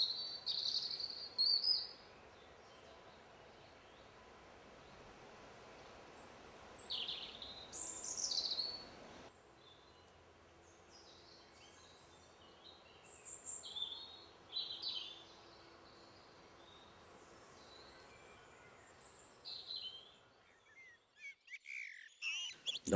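Birds chirp and sing in a garden in short, scattered high calls over a soft steady hum, some bursts louder and nearer, others faint, with a quieter stretch near the end.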